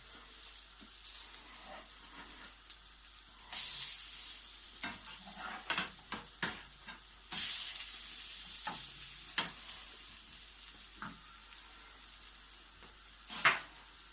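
Leftover mashed potato cakes sizzle and crackle in hot oil in a pan, a steady quiet frying hiss broken by sharper spatters and a few scraping, turning clatters.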